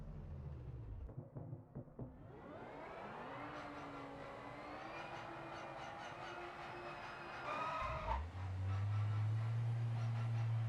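A race car in the Project Motor Racing video game cold-starts with an odd, wavering whine that rises and holds over several seconds. A deeper idle then rumbles in near the end.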